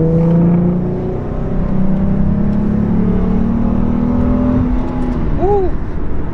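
Ford Mustang accelerating, a steady engine drone heard from inside the car with rising tones as it pulls through the gears, loud and close, ending with a short swooping whine.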